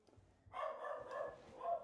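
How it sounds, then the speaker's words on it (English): A dog at home barking and yipping in a short, agitated burst, faint and somewhat distant, with no voices over it. "My dog's going crazy."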